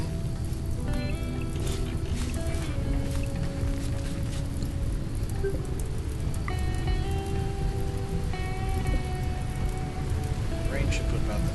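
Steady rain falls in the Rimworld video game, a constant broadband hiss of drops on surfaces lasting throughout, with faint tonal game sounds and music lines drifting above it.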